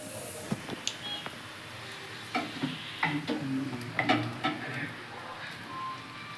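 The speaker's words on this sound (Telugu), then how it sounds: "ఇప్పుడు మళ్ళీ కలుపుతూ అన్నం వేసుకున్నాం" White rice being stirred into fried rice in a pan, with soft scraping strokes and light clinks of the spoon over a quiet sizzle, the stirring coming in irregular bursts.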